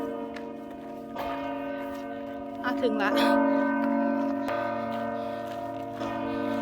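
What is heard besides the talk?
church bell striking the hour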